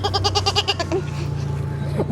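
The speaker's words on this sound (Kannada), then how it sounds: "ಕುರಿ ಮರಿ" A lamb bleats in a quick run of short, wavering cries near at hand, followed by a quieter stretch with a low hum underneath.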